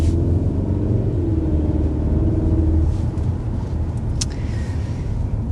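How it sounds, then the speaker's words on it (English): A 2027 Kia Telluride pulls away under moderate acceleration. A steady low engine and road rumble is heard from inside the cabin, with no clear rev climb, and it eases slightly partway through. "So doing some initial accelerating, I think you can immediately tell the torquiness of this powertrain."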